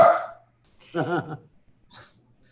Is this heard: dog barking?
yes